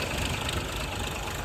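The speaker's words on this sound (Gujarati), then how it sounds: "આ બાજુ સાઈડો હાલે છે, આખું ઓટોમેટિક હલર છે" An automatic huller machine's engine runs steadily on a farm, a dense continuous mechanical drone with low rumble, loud and close throughout with no pauses or voices.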